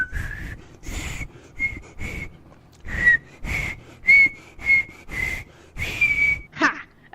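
A man whistles a halting tune in short separate bursts, about a dozen wavering notes with small gaps between them, loud and close with no other sound.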